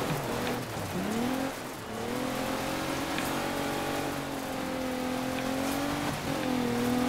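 A rally car engine in the video game DiRT 3 eases off the throttle, its harmonic drone dipping and sliding lower in pitch under a steady hiss of gravel or rain-like road noise, with no talking.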